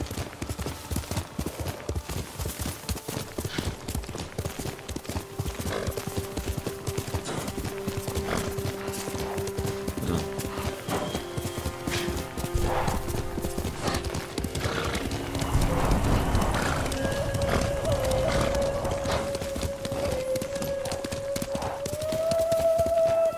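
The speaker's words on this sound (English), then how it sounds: "good horse." Horse hooves clip-clop steadily in Ghost of Tsushima, joined by a neigh and whinny near the end, all over continuous game background sound and music.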